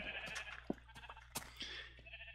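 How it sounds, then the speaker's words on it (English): Sheep in a video game bleat several times in quick succession, short nasal calls rising over a low steady hum, fairly close and quiet, with no one talking. "these sheep are so annoying"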